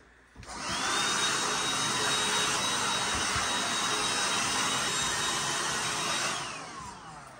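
A vacuum cleaner starts up and runs steadily for several seconds with a high whine, then winds down near the end.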